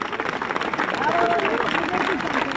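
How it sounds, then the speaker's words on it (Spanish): Crowd applause at a historical battle reenactment, the Battle of Almansa 2014, a dense steady wash of clapping and crowd noise that holds for the whole stretch. "Un aplauso a aquellos que, y aquellas que tienen la ingrata tarea de ser las bajas en este campo de batalla"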